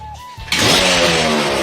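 A motorcycle engine catches and starts after a kick, a faint tone giving way to a sudden loud, steady engine roar that runs close and continuous to the end.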